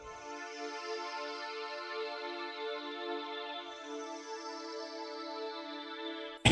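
A sustained synth pad from the Above Clouds preset in FL Studio's stock Citrus plugin holds a steady, layered chord for about six seconds at moderate level, with no talking, ending in a brief loud burst at the very end.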